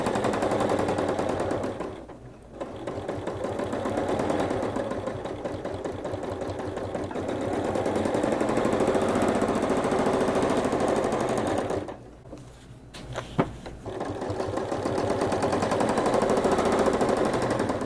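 Sewing machine stitching around a Creative Grids quilting ruler, a fast, steady mechanical hum and clatter that runs continuously and pauses briefly twice while the ruler is repositioned.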